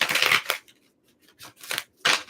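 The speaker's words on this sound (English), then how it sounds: "Let me get one more shuffle here." Tarot cards being shuffled by hand in a few quick riffling bursts, close and fairly soft, separated by short pauses of near silence.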